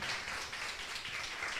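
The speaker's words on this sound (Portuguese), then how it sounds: "Você pode aplaudir a Jesus?" A church congregation applauds, a dense, even spread of many hands clapping at moderate distance for a brief stretch, steady and without voices standing out.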